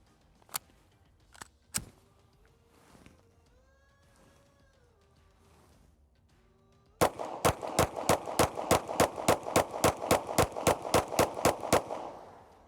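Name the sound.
shots fired from Canik compensated carry pistol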